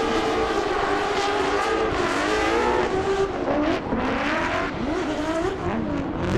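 Drift cars at a D1NZ Grand Final race along the Repco wall, with loud continuous engine roar rising and falling through gear changes and rev surges, layered with screeching tire squeal from close range.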